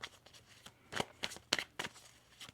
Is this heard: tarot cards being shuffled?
yes